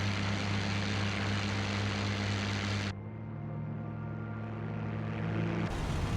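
An aircraft engine in a flight simulator video game drones steadily while landing with the gear down and a bit of flaps, a loud, constant hum whose tone shifts twice.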